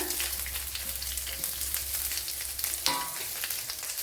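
Chopped small onion fries with green chillies in a pan for Kerala egg thoran, a steady close sizzle with soft stirring scrapes and one sharper clatter near the end.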